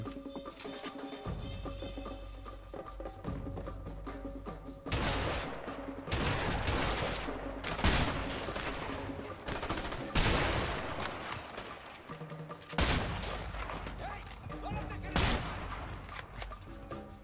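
Gunfire from the video game A Way Out, including a shotgun, with heavy loud blasts in several bursts and sustained volleys over background game noise, while players talk between shots.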